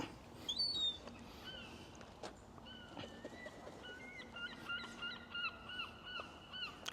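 Seagulls call repeatedly in the distance, a series of high, honking cries over low outdoor background noise, with a louder cry near the start, at a bakery in Blackpool.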